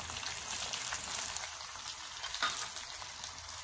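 Garlic fries with mixed herbs and red chili flakes in a pan for homemade pizza sauce, producing a steady, close crackling sizzle with light stirring throughout.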